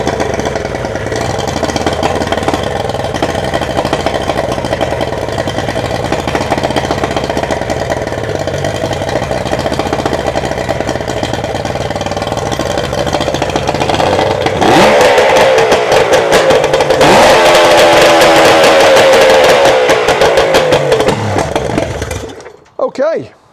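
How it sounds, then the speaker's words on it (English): Rebuilt Yamaha 75hp outboard motor, uprated to 90hp with a new 90hp exhaust pipe, runs steadily and loudly throughout, then rises to a harsher, louder roar near the end before cutting off abruptly. "Mechanically it sounds quiet and the exhaust is very loud, which is just what we want with the new 90 horsepower exhaust pipe fitted."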